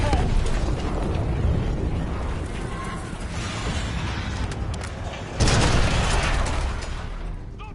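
A demolition charge detonates in the Black Ops 6 game, a loud broadband blast that rumbles continuously and then swells sharply near the end, with no voices over it.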